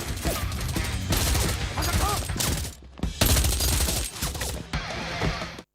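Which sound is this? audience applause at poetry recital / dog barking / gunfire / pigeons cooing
gunfire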